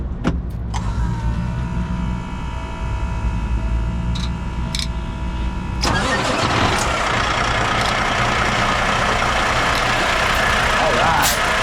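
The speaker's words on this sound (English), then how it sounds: "let's fire up this engine here" Cranking and whirring of a 2024 Kenworth W900L truck's starter give way to the engine catching and settling into a loud, steady diesel idle close by, with faint clicks before it fires.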